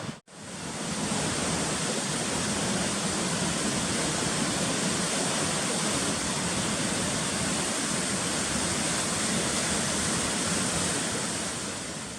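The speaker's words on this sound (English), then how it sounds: "Lots of water coming down." Rushing stream water near Copeland Falls in Rocky Mountain National Park, with a large volume coming down, makes a loud, steady, broadband roar close by that fills the whole stretch without a break.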